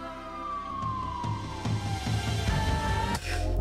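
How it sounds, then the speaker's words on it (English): A police siren wails with a slowly falling tone, moderately loud and somewhat distant, over a low rumble of traffic. "Can really hear that police car."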